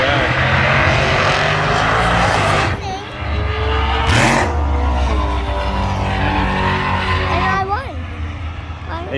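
A drag racing car at Calder Park roars loudly down the strip, its engine note rising and shifting, then briefly dropping off before returning, under excited voices.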